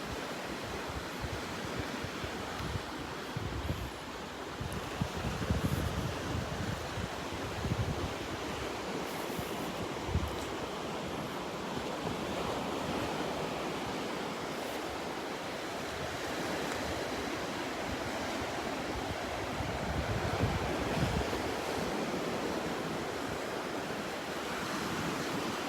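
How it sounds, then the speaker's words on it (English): Small waves lapping at a Gulf beach at Delnor-Wiggins, a continuous soft wash of surf with gentle swells, light wind buffeting the microphone, and no voices. "Look at those little waves."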